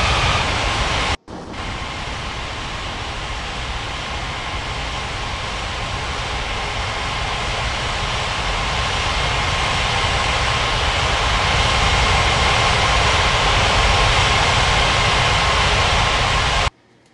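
In the game Unmatched Air Traffic Control, an airliner rolls for takeoff on runway 35 at Paradise Island International: a sustained, loud jet-engine roar that builds gradually, broken by one brief dropout near the start, then cuts off abruptly.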